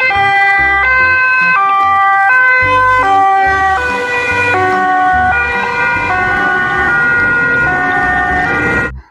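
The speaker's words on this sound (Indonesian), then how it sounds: "Yang ini ada mobil ambulans" Loud two-tone electronic siren from a toy ambulance, alternating high and low pitches in a steady rhythm, with a thin synthetic quality.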